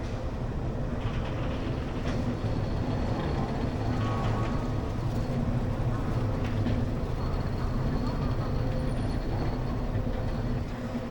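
A Santragachi–Mecheda local train running toward Digha, its steady low rumble and rattle heard from inside the carriage, continuous and fairly loud, with faint voices in the background.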